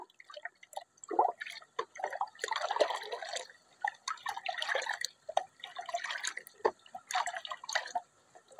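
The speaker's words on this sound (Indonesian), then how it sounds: "Kita aduk supaya benar-benar tercampur rata." Medicine for fish being stirred into water, with intermittent splashing, dripping and sloshing in bursts, close and moderately loud, with no talk.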